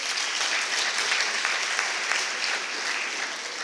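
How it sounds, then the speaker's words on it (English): Audience at a felicitation programme breaking into dense, sustained applause, many hands clapping together at a steady, fairly loud level throughout with no voices on top. "Now you are clapping because I said that"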